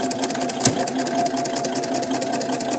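A sewing machine runs steadily as it stitches across fabric after a pivot, with a fast, even mechanical whir and a rapid needle chatter heard close and continuous.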